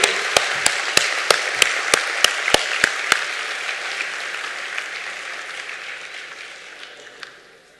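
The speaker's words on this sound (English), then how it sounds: "Can we all have a real resounding applause for this man who made it all happen for all of you?" Applause at a valedictory session and awards ceremony opens with a run of sharp, evenly spaced rhythmic claps, then settles into a broad wash of crowd clapping that slowly dies away.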